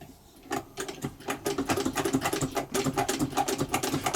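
A basic Singer 66 sewing machine stitches thick layered leather, making a quick rapid run of needle thumps that starts after a short pause and keeps an even mechanical rhythm, close and fairly loud.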